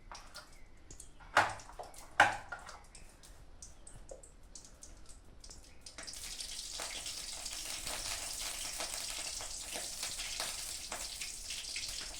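Mustard seeds and curry leaves frying in oil in a kadai for a Kongunadu-style radish poriyal, beginning with a couple of sharp taps, then settling into a soft, steady sizzle that continues to the end.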